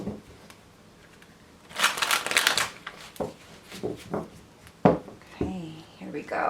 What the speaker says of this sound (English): so we're going to do 2 more shuffles